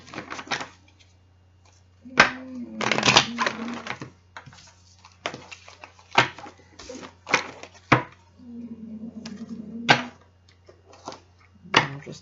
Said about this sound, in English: I'm just throwing the cards like I would if I was doing a reading for someone.